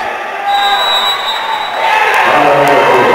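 A volleyball crowd in a gym cheers after an ace, a steady roar of voices swelling louder toward the end, with a commentator talking over the noise and squeaks audible near the close.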